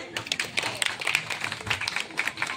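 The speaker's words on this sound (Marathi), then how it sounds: "टाळ्या तर व्हायला पाहिजे" Audience at a one-woman Marathi stage play bursts into steady, moderately loud applause, a dense patter of many hands clapping continuously throughout.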